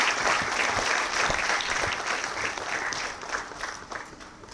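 Sustained applause from a university audience at a Nalanda University gathering of students, staff and faculty with the Vice President, a dense, steady wash of many hands clapping that fades slightly toward the end.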